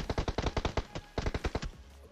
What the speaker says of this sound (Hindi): सेकंड फ्लोर पे मैं तो फायर कर रहा रैंडमली